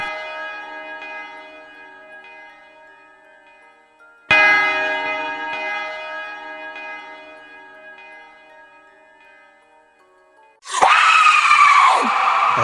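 A large church bell tolls twice, each deep ringing stroke slowly fading, followed by a loud, harsh scream.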